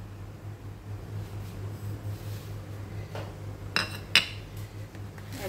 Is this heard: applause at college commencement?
no